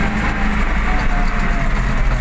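MAN D0834 diesel engine swapped into an MTZ 1025 tractor, running steadily with a dense low rumble and broad mechanical noise, close and continuous while the tractor moves over a rough road.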